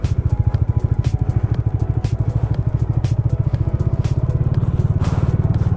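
A motorbike engine thrums in a fast, steady rhythmic pulse while being ridden on ice in a snowy Himalayan valley, loud and close throughout with faint scraping.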